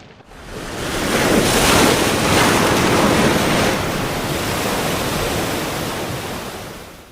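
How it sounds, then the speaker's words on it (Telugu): Ocean waves wash onto a shore in a steady, loud roar of surf, with wind noise over the microphone and no voices. "అక్కడి నుంచి కొంచెం ముందుకు వెళ్ళగా వారికి ఒక సముద్రం కనబడుతుంది"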